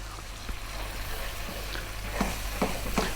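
Ground spices including garam masala, Kashmiri chili powder and coriander frying for a Punjabi bone-in lamb curry, a soft steady sizzle with a few scraping stirs growing slightly louder toward the end, no talking.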